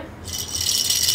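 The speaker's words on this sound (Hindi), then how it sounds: "दोबारा रेटल की आवाज है" A rattle shaken in a steady burst, a dense bright hiss of beads or pellets continuing for about a second, fairly close and alone.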